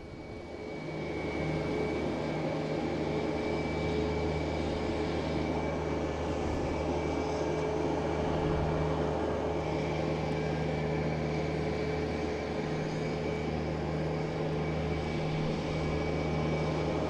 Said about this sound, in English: We got a JetBlue coming in from Nashville. An A220, landing on 4 right.